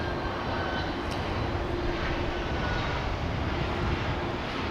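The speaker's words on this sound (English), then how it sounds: "we're getting another UPS plane" A UPS cargo plane, a Boeing 767, arriving at Dallas/Fort Worth Airport, heard as a steady, broad engine roar that holds at a constant level throughout, with no talk over it.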